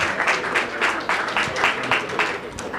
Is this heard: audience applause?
yes